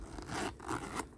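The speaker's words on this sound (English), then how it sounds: "Let's see if it zips up." A Dooney & Bourke handbag being zipped closed, two or three short, scratchy zipper pulls heard up close, soft and brief.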